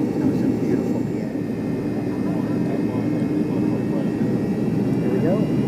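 An American Airlines MD-80 jet gets ready for takeoff, heard from inside as a steady, loud, low engine roar with a voice speaking over it.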